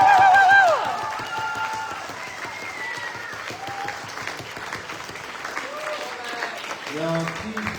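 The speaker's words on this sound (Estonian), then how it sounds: "Teeme neile suure aplausi." An evening event audience gives a long round of applause for sixth-grade trip guides, steady crowd clapping with a denser burst at the start, mixed with some voices and chatter throughout.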